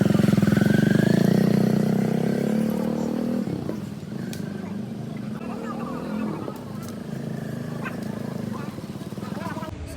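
A motorcycle runs at a driving licence test ground, its engine loud and steady at first, then easing off and continuing at a lower drone, with people talking nearby.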